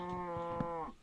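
A Minecraft cow lets out one sustained, droning moo that lasts about a second, close and clear with nothing else over it.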